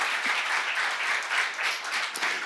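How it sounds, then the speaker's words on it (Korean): A church congregation at a Jesus-centred seminar applauds in a sustained, even wash of clapping from many hands, steady and moderately loud throughout with no speech over it. "박수로 하세요."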